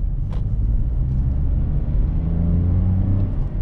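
Toyota Yaris Cross 1500cc gasoline engine pulling away from a standstill, a steady low engine drone with road rumble building gradually, heard from inside the cabin.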